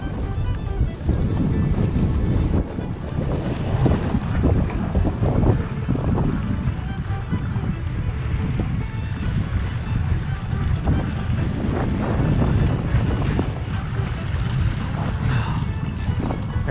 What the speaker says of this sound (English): Man, these winds are just too crazy.